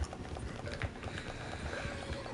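A small horse's hooves clip-clop steadily in a video game, a quick, light rhythm of hoofbeats heard fairly close and mostly on its own.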